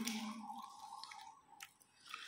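Someone eats watermelon, with wet, squishy chewing and small juicy smacks close to the mouth, quiet and unaccompanied by talk.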